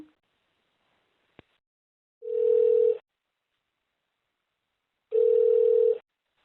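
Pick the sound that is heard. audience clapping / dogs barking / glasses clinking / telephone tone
telephone tone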